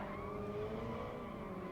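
Racing cars in a racing video game speed down a straight, a steady engine drone holding high pitch for a brief moment, faint and without voices.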